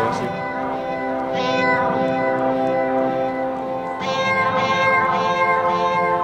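A cat meows repeatedly up close, long plaintive cries in sequence with short pauses between them.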